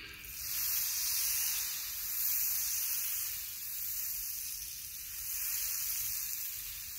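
Hot dogs sizzling in a buttered pan while being stirred, a steady broadband hiss that swells and eases in slow waves, close and loud with no talking.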